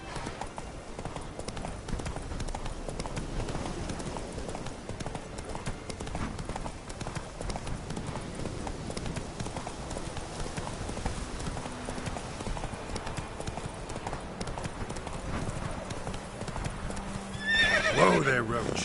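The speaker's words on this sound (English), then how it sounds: "Whoa there, Roach." Horse hooves clip-clopping steadily in The Witcher 3 video game, moderately loud throughout, ending with a sharp whinny near the close.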